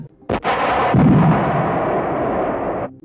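A single heavy Tiger tank cannon blast booms out at a firing range, followed by a long rolling rumble and echo that fades after a couple of seconds.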